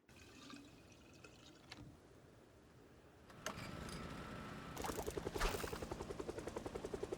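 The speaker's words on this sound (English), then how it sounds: "the helicopter decides to show up" A helicopter approaching in the zombie survival game Project Zomboid, starting as a faint distant rumble and swelling into a loud, rhythmic rotor chop near the end.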